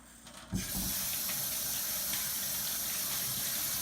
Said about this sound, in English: a little bit of water in the hands and just rinse it